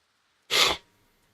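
A single sharp, close human sneeze bursts out after a moment of quiet and fades with a short breath.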